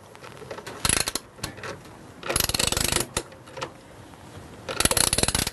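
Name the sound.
loosening washing machine motor nuts with a socket spanner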